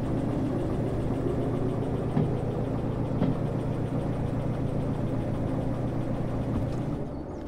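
A Thomas the Tank Engine locomotive in a video game throttles up, giving a steady, loud mechanical engine drone with a low rumble that holds evenly throughout and eases slightly at the end.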